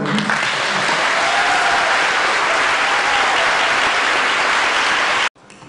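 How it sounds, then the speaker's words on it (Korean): Loud, dense applause from an audience at a talk event, a continuous roar of many hands clapping that cuts off abruptly near the end. "박수 한번."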